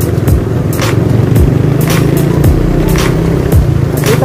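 Heavy road traffic with trucks rolling past on a congested roadway, a loud, steady rumble marked by repeated whooshing pass-bys and engine drones shifting in pitch as vehicles go by.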